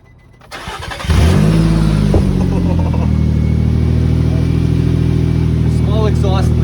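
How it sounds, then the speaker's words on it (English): A car with an exhaust leak fires up after a quiet moment and settles into a loud, raspy idle that rumbles on. Voices talk briefly near the end. "So this car keeps wanting to be loud, so it keeps straight piping itself."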